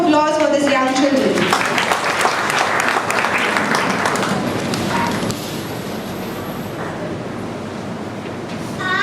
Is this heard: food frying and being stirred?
no